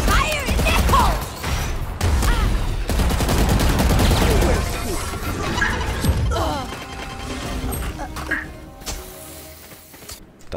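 Loud bursts of gunfire and blasts from a Valorant match, with repeated crashing impacts and rapid shots over several seconds, thinning toward the end, while a voice is heard briefly.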